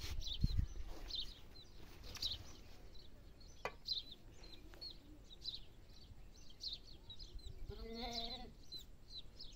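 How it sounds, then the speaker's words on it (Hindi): A lamb bleats at a farm, its wavering cry rising near the end over faint chirping birds and low background rumble; no one speaks. "वो बेचारा भेड़ का बच्चा भी रो रहा है"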